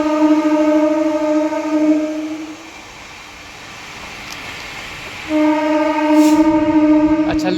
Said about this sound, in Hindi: जिसके चलते अपनी ट्रेन को बहुत धीमी गति से निकाला जा रहा है।